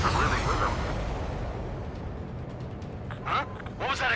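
An explosion in the Ace Combat 7 video game gives a low, rumbling boom that fades into a background roar, with short radio voices breaking in near the end.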